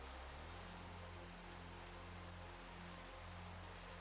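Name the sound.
rain in a video game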